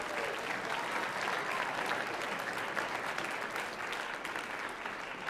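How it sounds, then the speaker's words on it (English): A roomful of people applauds at a high school senior scholarship meeting, the clapping a dense, even wash heard at moderate distance and sustained throughout. "Clap it up for Amanda, please"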